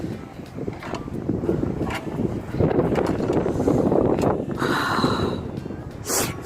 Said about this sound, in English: Such a stormy day, so windy and cold.